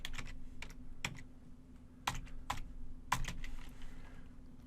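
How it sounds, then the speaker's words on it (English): Keystrokes on a computer keyboard as a command is typed into a terminal, a sparse irregular run of about eight distinct clicks over a steady low hum, close and fairly quiet, with no voices. "in the terminal window, we're going to type in Recon-NG"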